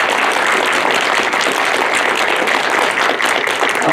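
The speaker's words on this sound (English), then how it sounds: "a round of applause for our candidates for our forum for tonight" Audience at an evening mayor and city council candidate forum clapping steadily, a dense, even round of applause filling the room with no talk.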